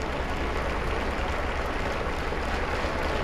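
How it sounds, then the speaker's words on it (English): Steady, dense applause from members of Pope Benedict XVI's household greets him at the Vatican, a continuous even wash of clapping with no voices standing out. "And the Pope now greeted by applause from members of his household."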